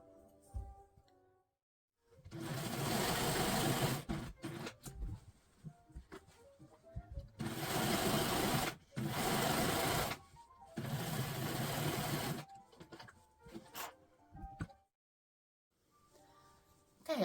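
A sewing machine stitches fabric strips for a scrappy quilt-as-you-go Christmas table runner. It runs in three loud whirring bursts of about two seconds each, with quiet pauses and small handling clicks in between.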